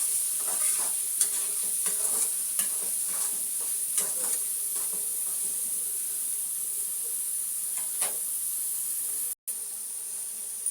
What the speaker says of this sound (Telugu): మసాలా వేగాలండి బాగా